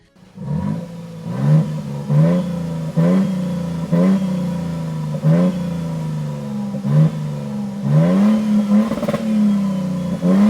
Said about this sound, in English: In the middle, we have the 2024 Toyota Sequoia TRD Pro. Now listen to that engine.